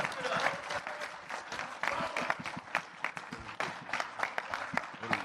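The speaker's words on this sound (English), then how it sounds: "round of applause for these two" A round of applause and clapping from the audience at a Misfits x DAZN X Series 003 boxing press conference, dense and steady for several seconds, fairly loud, with some voices mixed in.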